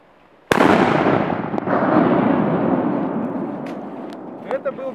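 A Big Jumba firecracker bursts on ice with one sharp, loud bang, followed by a long rumbling echo that slowly fades, with a few faint pops and a brief voice near the end.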